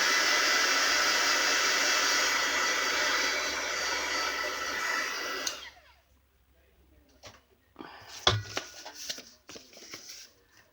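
A dryer blowing to dry paper napkin craft tags, a steady close whooshing air stream for about five seconds before stopping, followed by rustling and handling noises.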